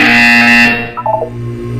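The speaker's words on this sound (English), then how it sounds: "You will hear a buzzer." A harsh electronic buzzer sounds in the Portal 2 video game, a loud steady tone that holds for about three quarters of a second and cuts off, followed by a short burst of quieter tones over a low hum.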